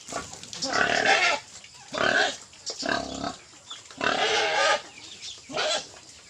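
Three-week-old piglets on a farm squeal and grunt in several loud, close bursts separated by brief pauses, with no talking.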